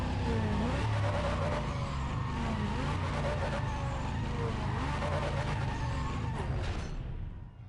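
A race car in Need for Speed ProStreet spins its tires in a burnout before launch, with steady screeching tire squeal over a loud revving engine for about seven seconds, then cutting off abruptly.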